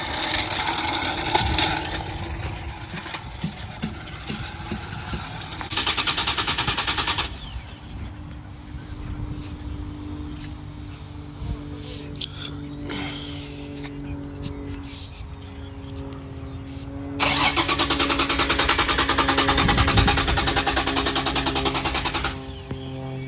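Car engine idling steadily through a cheap eBay exhaust muffler after an alternator fix and spark plug installation, a constant low rumble with two longer stretches of louder, hissing roar.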